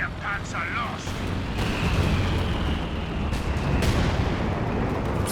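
A destroyed Panzer IV tank explodes in Company of Heroes 2 with a sharp blast and a rumbling, crackling boom, followed by further distant battlefield explosions and bursts, fairly faint overall with a voice commenting over the action.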